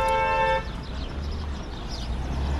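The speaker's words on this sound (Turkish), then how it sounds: "Antalya'da yine korna sesleri, alıştığımız üzere." Car horns honk on a street in Antalya, a long steady horn blast at the start cutting off sharply, followed by steady traffic rumble with faint distant toots.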